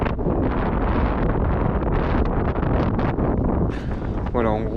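Wind of about 20 knots blows over a sailboat at anchor at night, a loud constant rush with gusts buffeting the microphone and a brief tonal whine near the end.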